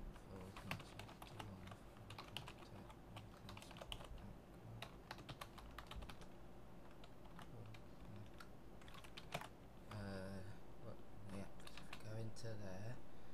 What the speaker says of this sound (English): if I type in the location of where I like to store everything